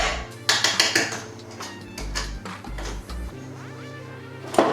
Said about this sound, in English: remove my whisk and tap the excess meringue back into the bowl